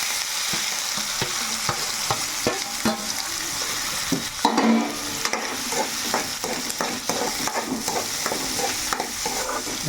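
Onion and tomato frying in oil in a kadai for chicken curry, a steady close sizzle with repeated scraping stirs of a utensil against the pan throughout, no voices.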